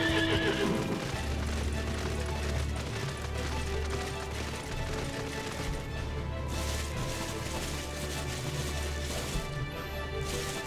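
A horse mount in Final Fantasy XIV neighs and whinnies over steady clip-clopping hooves, with the game's music running continuously underneath for the whole stretch.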